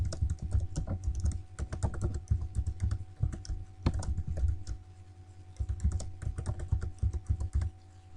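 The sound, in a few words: typing a password on a computer keyboard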